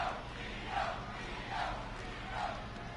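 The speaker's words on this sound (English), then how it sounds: "We got some Io fans here on SmackDown in the crowd." Wrestling arena crowd on a SmackDown show in WWE 2K23, a steady broad roar of cheering with faint swells, distant and continuous, no talk over it.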